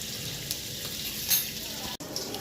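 Gunda sambharo sizzles gently in a pan over a low flame, a steady soft frying hiss with faint scrapes of a spoon stirring it, close by and without talk.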